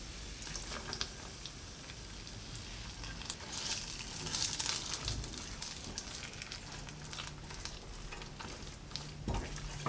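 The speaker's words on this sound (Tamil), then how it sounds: "வறுத்து வச்ச இந்த முந்திரியையும் திராட்சையையும் கேசரி கூட சேர்த்துட்டு நல்லா கலந்து விட்டுடலாம்." Fried cashews and raisins being stirred into a pineapple kesari in a pan, a quiet soft sizzle with gentle scraping and stirring scuffs, no talking.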